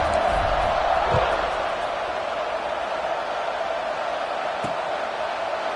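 A college football video game stadium crowd roars at a kickoff, a loud wide wash of cheering that swells at first and then holds at a steady level, with a few thuds and shouts within it.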